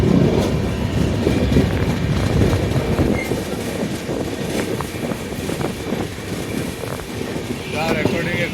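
A passenger train between Nashik and Mumbai rumbles steadily from inside the carriage, a continuous loud roar with wind buffeting and faint voices mixed under the running noise.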